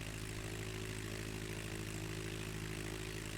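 A small plane's engine drones at full throttle while climbing out of Hope toward Kelowna in Flight Simulator X. The dense, steady hum holds constant for a few seconds with no talking.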